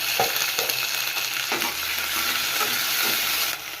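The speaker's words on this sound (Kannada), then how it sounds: "ಎಣ್ಣೆ ಕಾದ ನಂತರ ಈರುಳ್ಳಿ ಹಾಕೋತಾ ಇದ್ದೀನಿ" Chopped onions fry in hot oil in a pan for a chicken chops dish, giving a steady close sizzle and hiss broken by a few soft stirring knocks, with no talking.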